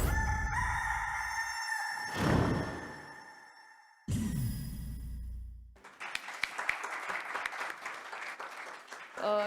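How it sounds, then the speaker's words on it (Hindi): A Kadaknath rooster crows loudly and close, a long rising-and-falling call, followed by clapping applause and talk in the background. "यह है कड़कनाथ मुर्गा."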